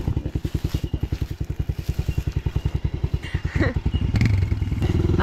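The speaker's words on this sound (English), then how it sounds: "I'd rather ride the small bike up the hill climb." A Yamaha TT-R dirt bike climbs a steep sandstone hill in the bush, its single-cylinder engine pulsing in a rapid, even chugging beat close to the microphone, then rising into a strained, continuous roar near the end.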